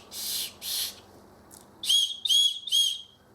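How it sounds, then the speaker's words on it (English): The whistle on a Leatherman Signal multitool is blown in sharp, shrill blasts: two longer ones, a faint short one, then three quick bursts, all loud and close. "The whistle works upwards only, so that needs to be pointing to the sky."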